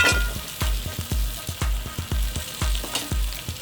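Tomatoes and beef stir-frying on a Hunsaker griddle set over a smoker, giving a loud, close crackling sizzle with repeated sharp clacks as the food is tossed and stirred, and no voices.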